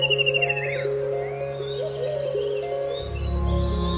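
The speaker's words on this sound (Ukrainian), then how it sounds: "Вони криками сповіщають про свою присутність на великих відстанях." A white-throated kingfisher gives loud, rattling calls that carry across open country during courtship, with a brief trill early on over steady background tones and a low rumble rising near the end.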